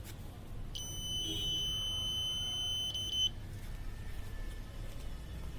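A buzzer on an Arduino-based smart blind stick sounds a single sustained, bright electronic beep of about two and a half seconds over low background hum as it detects an obstacle.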